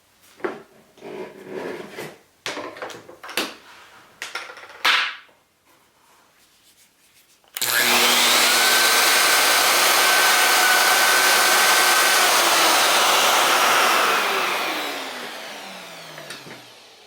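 A drill bores a hole through a wood panel guided by a plate while fitting Blum hardware. A few sharp knocks and clicks come first, then a loud, steady whirring grind that runs for several seconds before winding down.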